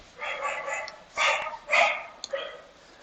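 A pet dog barks indoors in three or four short, sharp bursts at moderate loudness, with no talking over it.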